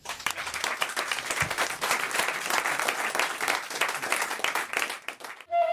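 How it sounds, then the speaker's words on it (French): A radio studio audience on the French show On Va S'Gêner bursts into steady, dense applause that carries on for several seconds before stopping abruptly. "Bravo, on vous applaudit"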